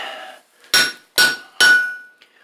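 Three sharp, ringing hammer blows strike a chisel cutting into hot metal for a rosette, each crack close and loud with a bright metallic ring fading between strikes.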